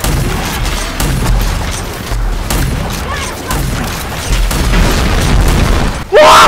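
A booming explosion in the video game Rage 2 amid combat, low rumbling bursts and game effects with a sharp loud hit near the end, heard over continuous game sound.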